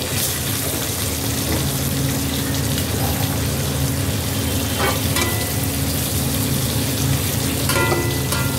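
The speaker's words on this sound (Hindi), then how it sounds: "एक तरफ परमल की भाजी भी बन रहा है।" Parwal (pointed gourd) bhaji sizzles and fries in a pan, a dense continuous crackle close up with occasional stirring clinks and scrapes, steady and loud without talk.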